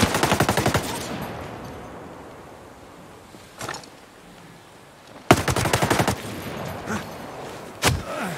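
Machine gun fire in the video game Ghost Recon Breakpoint: two loud, rapid automatic bursts separated by a stretch of quieter game ambience, with a few isolated single shots in between.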